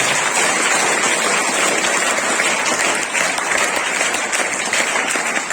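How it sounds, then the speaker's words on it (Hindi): Loud, dense applause from a crowd gathered at an Independence Day celebration, a continuous rain-like wash of clapping lasting several seconds with no speech over it. "मैं चाहूंगा एक बार कम से कम हम यहाँ पर जोरदार तालियों से उनका स्वागत"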